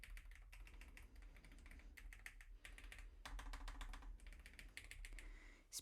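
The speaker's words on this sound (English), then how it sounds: "I actually love the sound of this keyboard" Typing on a LoFree Flow mechanical keyboard with Ghost switches: rapid bursts of close, crisp key clacks broken by brief pauses, quiet and alone.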